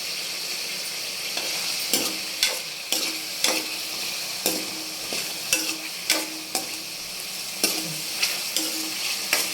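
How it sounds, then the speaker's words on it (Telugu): Ridge gourd pieces, green chilies and cumin seeds fry in a little oil, with a soft steady sizzle broken by sharp, regular clacks of a spoon stirring against the pan. "పచ్చిమిర్చి బీరకాయ కొంచెం వేగాలండి"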